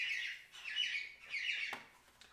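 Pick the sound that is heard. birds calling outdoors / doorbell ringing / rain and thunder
birds calling outdoors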